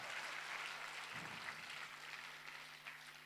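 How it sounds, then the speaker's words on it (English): Applause from an audience at a live performance event sounds faint and distant: a soft, steady wash of clapping that holds for a few seconds, with no voices over it. "Let's give them a big round of applause."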